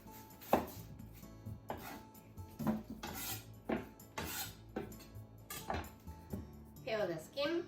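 Kitchen knife chopping the top and bottom off an onion on a board, several sharp separate cuts spread through the clip amid light dish and utensil clatter, with talk over it.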